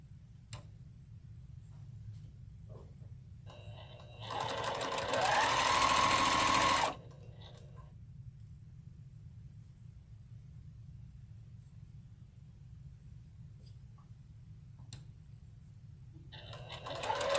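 A sewing machine stitches an appliqué quilt in one loud, close burst of about two seconds, with faint ticks and low room rumble before and after and the machine starting again at the end.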